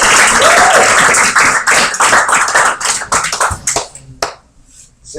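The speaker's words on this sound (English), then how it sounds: "Give another warm round of applause to Xavier." An open-mic audience claps for a performer, dense loud applause that thins into scattered claps and fades near the end.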